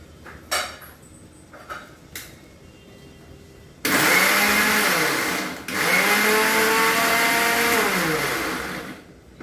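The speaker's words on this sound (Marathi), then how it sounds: "आणि हे आपण आता सर्व मिक्सरला वाटून घेऊ." An electric mixer grinder blending cumin, sugar and curd roars up suddenly after a few quiet clicks, runs loud and steady, briefly dips, then surges again close by.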